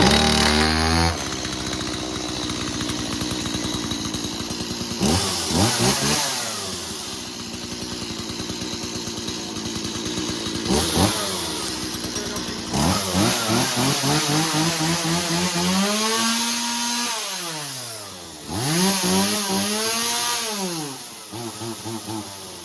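A Stihl MS 180c chainsaw runs loud and close, idling with a buzzing two-stroke drone. It is repeatedly revved up to a high whine and dropped back, with a few sharp throttle blips and no talk.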